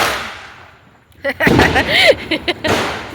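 Diwali firecrackers burst nearby in a quick cluster of sharp, cracking pops, with a voice heard briefly among them.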